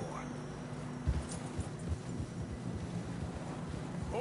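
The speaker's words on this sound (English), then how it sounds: "Horses are struggling." Horses clip-clopping through deep fresh snow in the Red Dead video game, heard as soft, muffled hoof thuds under a steady whooshing wind.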